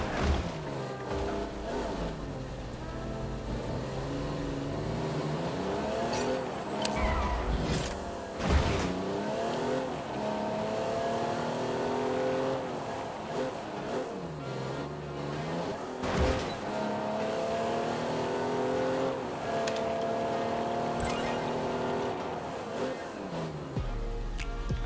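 A car in Fortnite's Rocket League mode drives up a ramp with a steady rising and falling engine drone, revs shifting in pitch, and occasional thumps of landing throughout.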